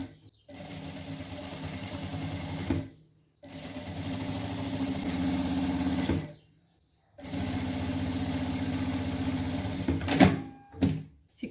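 A sewing machine runs in three long bursts, stitching a narrow hem finish on a trapeze dress, each whirring run stopping abruptly between pauses, followed by a few short clicks and handling sounds near the end.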